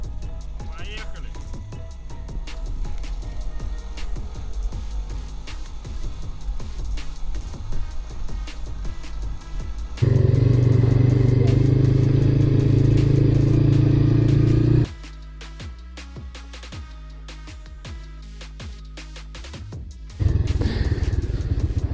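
A motor scooter on a village outing runs and rattles, its engine steady and then louder and rougher mid-clip before easing back, with people talking over it.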